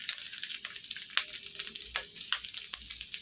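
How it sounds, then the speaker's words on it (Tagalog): Garlic being sautéed in hot oil for a pinakbet dish, a steady close sizzle with occasional sharp crackles and pops, no talking. "Gigisa na tayo ng ating bawang"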